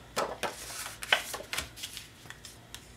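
Paper card base being handled and shifted inside a plastic film folder during card making: a run of soft crinkling rustles and light taps, close and fairly quiet, with no voices.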